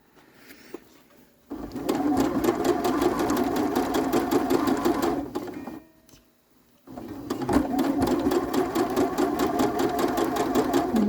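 A sewing machine basting down the handles of a quilted bag runs in two long, steady bursts of rapid stitching, separated by a short pause, close and fairly loud with no talking.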